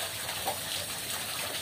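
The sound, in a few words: submersible pump running in a pond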